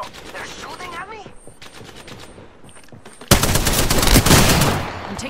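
Rapid automatic gunfire erupts in the Apex Legends video game, loud dense bursts of shots arriving suddenly after quieter scattered pops and game sounds, continuing for a couple of seconds.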